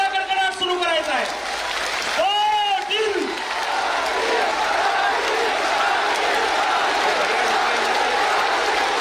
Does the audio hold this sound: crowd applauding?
yes